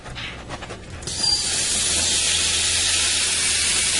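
Beef cubes drop into hot butter and oil over high heat and burst into a loud, steady sizzle after a few clattering sounds, close and continuous.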